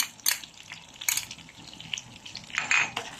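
Garlic sizzles in butter in a pan for gambas al ajillo, a steady close fry broken by a few sharp clinks and scrapes of stirring.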